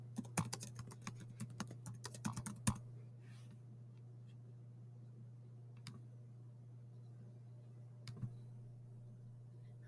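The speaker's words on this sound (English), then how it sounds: "So say I am typing my paragraph here." Fast keystrokes clatter on a computer keyboard for a few seconds, then stop, leaving a low steady hum with a couple of isolated key taps.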